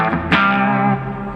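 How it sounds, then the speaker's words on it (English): A Stagg electric guitar rings out with a distorted crunch tone, a sustained strummed chord with a sharp pick attack partway through, loud and close, with no voice over it. "they're really dynamic, you know, you can dig in and get the kind of crunch"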